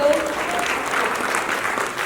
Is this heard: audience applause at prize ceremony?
yes